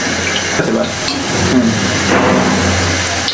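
Luchi deep frying in hot oil for a Bengali meal with Kashmiri aloo dum, a steady broadband sizzle and bubbling filling the whole clip at close range.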